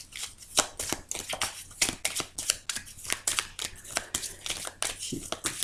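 Tarot deck being shuffled and cut by hand, a rapid run of crisp papery riffles and slaps repeating close up, with a voice speaking softly now and then.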